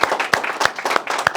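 A few people clap together at a cinematography workshop for Amit sir, a short burst of loud, distinct, roughly evenly spaced claps close by.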